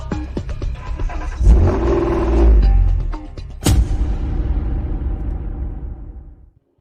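A car pulls away with a rising rev, the engine rumbling and surging twice before fading into the distance.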